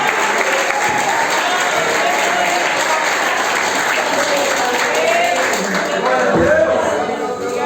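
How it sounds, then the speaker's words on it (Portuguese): A church congregation applauds in a steady wash of clapping and crowd noise, loud and continuous, with voices mixed into the clapping and some murmured cheering rising near the end. "Aplaude Jesus, que ele é bom."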